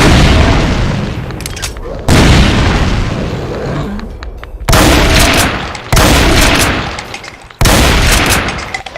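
Grenade blasts tearing through demons in a modded Doom game: four loud, sharp booms in quick succession, each cutting in abruptly with a broad roar that decays before the next hit.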